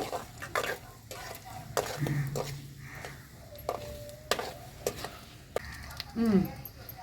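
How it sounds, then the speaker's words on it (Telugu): Ginger, garlic, onions and green chilies frying in oil for a village-style drumstick curry, with repeated spatula scrapes and clanks against the pan over a steady sizzle, close and moderately loud. "ఇప్పుడు ఉల్లిగడ్డలు పచ్చిమిరపకాయలు అల్లం ఎల్లిపాయ ఇవన్నీ వేసుకున్నామండి ఫస్ట్ అయితే అల్లం ఎల్లిపాయ వేస్తున్నా"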